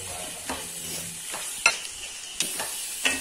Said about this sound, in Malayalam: ഇതെല്ലാം കൂടെ നന്നായിട്ട് മിക്സ് ചെയ്തെടുക്കുക.